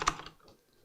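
A short burst of typing on a computer keyboard for a Google search, a few quick close key clicks at the start fading into quiet, no talking.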